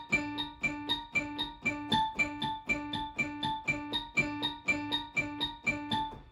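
Piano playing the bouncy intro of a song with both hands, a low left-hand D doubling each right-hand D, in steady repeated chord stabs that pulse evenly and alone at close range.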